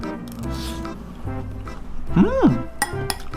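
A spoon clinks against a dish while eating homemade kimchi and chicken breast gochujang fried rice: a few light taps and scrapes close by, with a short hummed vocal sound in the middle.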